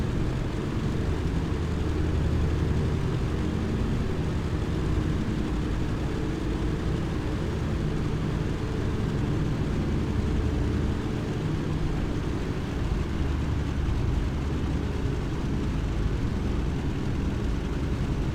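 Airliner touching down and rolling out on a runway in Flight Simulator X, a steady broadband engine and rumble roar filling the whole stretch at constant loudness, with no talk.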